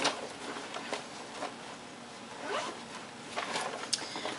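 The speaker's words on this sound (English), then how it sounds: "there is the main zipper compartment right here, which I'll open up for you guys" A bag's main compartment zipper is pulled open in several short rasping strokes, close and fairly quiet, with no talking over it.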